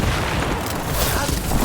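Gunfire in the video game Dragon Age: The Veilguard is a loud, dense barrage of booming shots and blasts that fills the short stretch and blends with the game's other noise.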